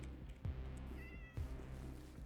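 A cat in the video game Minecraft gives a single short, clear meow over a steady low hum of game background sound.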